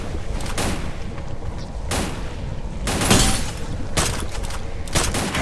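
Rapid bursts of gunfire from a mobile battle-royale shooter game, dense repeated volleys with short pauses between them, loud and close, with no voices over it.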